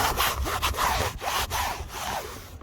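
Aosom bike trailer rubbing against something while being pulled, a steady rough scraping friction with repeated rasping strokes, close and loud, with no voices.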